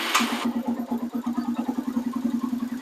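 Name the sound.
Yamaha TW200 motorcycle engine running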